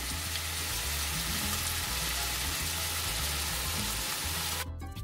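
Bulgur and chicken sizzle loudly in a hot pan as curry spice is added, a dense continuous crackle with faint stirring and a brief scrape near the end.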